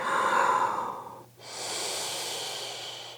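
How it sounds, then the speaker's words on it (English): Deep, steady breathing during a yoga session: a long breathy exhale, a brief pause, then a full, even inhale, close and alone with no talking. "Keep breathing deeply and fully."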